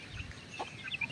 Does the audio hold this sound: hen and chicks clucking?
yes